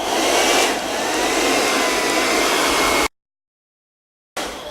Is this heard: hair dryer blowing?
yes